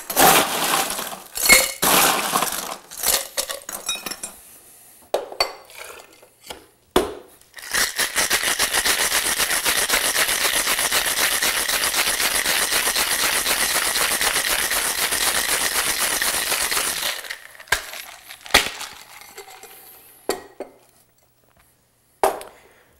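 Ice rattles hard inside a cocktail shaker during a steady shake of about ten seconds. Scattered clinks of bar tools and glass come before and after it, with no talk.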